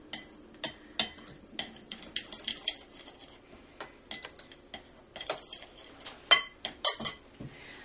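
Flour and grated parmesan stirred together in a bowl, a metal spoon or whisk clinking and scraping against the sides in irregular taps and knocks, close and fairly quiet, with no talking.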